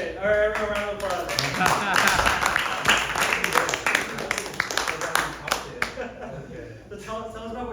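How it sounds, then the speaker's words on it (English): Audience applause at a sales-training tech event, with claps and cheers rising over a murmuring crowd and a talking voice near the start and the end, then fading away toward the close. "All right, everyone, round of applause."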